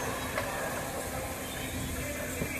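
An EMU passenger train runs out of Tirupati station, slowing down, heard from inside as a low steady rumble and rattle with faint clanks, fairly quiet throughout.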